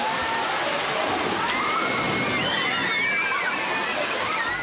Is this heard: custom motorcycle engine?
no